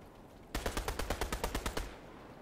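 Rapid burst of automatic gunfire from an SMG in a competitive shooter game, about ten sharp evenly spaced shots in quick succession, loud and close, then cutting off into quiet.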